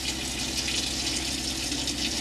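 Water pours from a camper van kitchen tap in a steady, close hiss of running flow that stays even throughout, with no talking.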